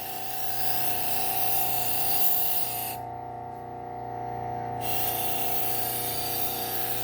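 A serrated Wusthof kitchen knife being sharpened makes a steady, close grinding whir with a faint tonal hum, dipping briefly in the middle before resuming.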